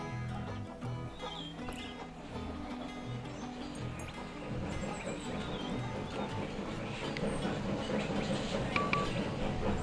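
A train rolls along with a steady rumble and rhythmic clatter in Railroad Tycoon 3, mixed with low game sounds throughout.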